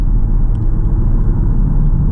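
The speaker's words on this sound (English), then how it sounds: "So yes, I like the sound of the 5-cylinder" Audi TT RS five-cylinder engine running steadily at low revs, a loud, close, continuous rumble with no voices.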